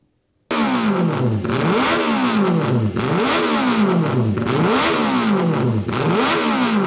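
Loud motorcycle engines revving hard over and over at a memorial gathering, each roar rising in pitch and then dropping, in a rapid repeating cycle close to the listener.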